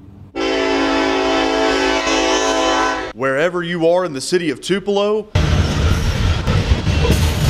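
A train in downtown Tupelo sounds a long, loud, steady horn blast, then a person speaks briefly before a broad rumbling roar of the passing train takes over.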